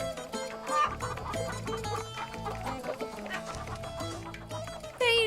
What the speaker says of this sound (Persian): به اینجا میگن مرغدونی.